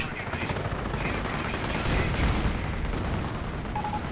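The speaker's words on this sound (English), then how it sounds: "Firing at the Panther from a nice range." Dense, continuous gunfire and rumbling explosions fill a World War II strategy game battle as a Sherman Firefly tank fires at a Panther, loud and unbroken throughout.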